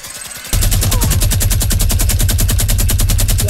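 A Fortnite minigun opens up after a short quiet moment and fires a loud, sustained, rapid burst of evenly spaced shots that continues to the end.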